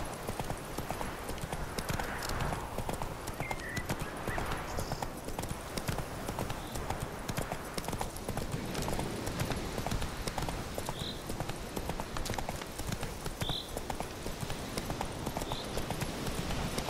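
Hooves of the horse in The Witcher 3: Wild Hunt clatter in a steady, rapid clip-clop rhythm throughout, close and continuous over a dense outdoor game ambience.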